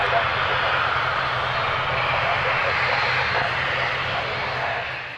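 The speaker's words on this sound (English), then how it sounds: "The plane following had to make a go-around because of the aborted takeoff." Jet airliner engines run at takeoff power at Gatwick, a loud, continuous roar that holds steady throughout and fades quickly at the very end.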